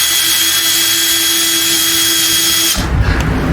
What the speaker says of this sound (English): we can come back and we can screw these in